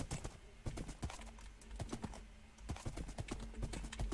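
Horse hooves clip-clop in the video game Minecraft, a fast, steady run of hoof beats throughout, fairly close.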